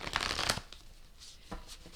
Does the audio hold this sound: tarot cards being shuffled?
yes